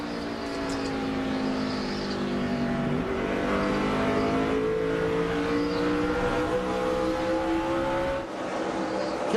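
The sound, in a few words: NASCAR Busch Series race cars at Richmond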